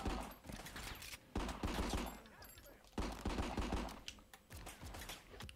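Gunfire in the RICO video game on Nintendo Switch, bursts of rapid shots in three or four loud volleys separated by brief gaps, with keyboard-like clatter mixed in.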